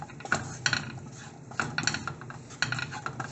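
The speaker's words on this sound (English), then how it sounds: "Stir it well." Stirring a potato and turmeric mixture in a pan for an aloo sandwich filling, with utensil scrapes and clinks against the pan in three bursts, close and moderately loud, with no talking.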